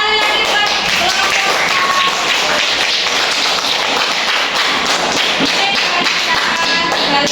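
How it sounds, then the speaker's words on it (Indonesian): A classroom group in a training session breaks into dense, steady clapping that fills the whole stretch at close range, with some voices mixed in underneath. "tepuk tangan sekali lagi buat kelompok"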